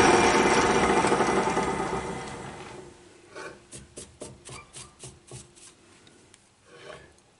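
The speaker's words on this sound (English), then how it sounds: "So I'm gonna have to touch this a little bit with a file or something." A metal file rasps against a small part for a scale model shaper's toolslide, first a continuous scraping and then about ten short, evenly spaced strokes, heard close up with no talk.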